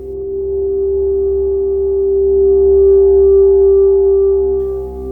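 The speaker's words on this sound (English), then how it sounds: "We can get more of a feedbacky sound if we crank up the resonance." A sustained resonant Moog Matriarch synthesizer tone from a cranked filter resonance rings out steadily, a pure whistling pitch over a low hum, swelling slightly in loudness before fading at the end.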